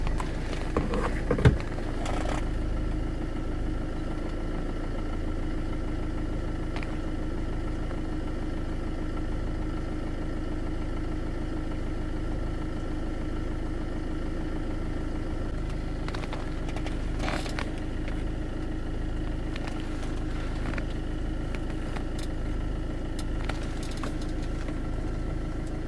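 A diesel car engine idling, heard from inside the cabin at the dashboard during an injector-cleaning check, a steady low rumbling drone with faint vibration, continuous throughout with a brief knock near the start.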